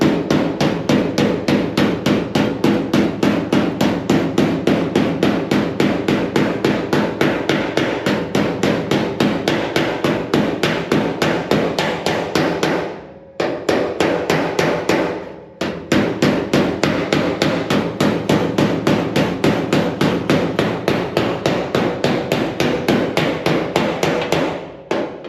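Steel hammer striking the sheet-metal front nose of a 1969 VW Bus against a dolly held on the outside, a fast, even run of close, loud ringing blows that pauses briefly twice.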